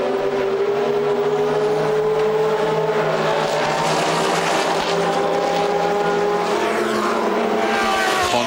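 Ferrari 430 GT2 race car pulling away at Monza during a GT race, with a loud, near engine roar that climbs steadily in pitch through the gears and is heard alone.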